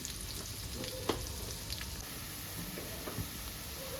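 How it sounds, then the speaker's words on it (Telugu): Onion frying in a pan for a Telugu lentil and ridge gourd dish, a faint, steady sizzle with occasional soft stirring knocks, close and quiet. "బాగా ఫ్రై చేసుకుందామండి."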